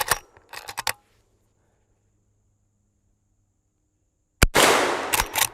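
Sharp reports from a .44 Magnum lever action rifle fired at targets outdoors: a cluster of quick cracks at the start, a long quiet gap, then another loud burst of several close shots at the end.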